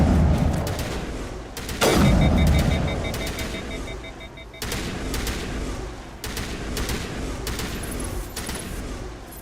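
Gunfire in Mass Effect Legendary Edition comes as repeated loud bursts of shots amid heavy combat rumble, with several sharp volleys spread across the stretch and a low, busy background.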